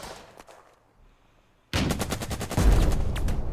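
Gunfire in the World War II North Africa strategy game Burden of Command: a few faint shots, then a sudden loud sustained barrage of rifle and machine-gun fire with heavy booms.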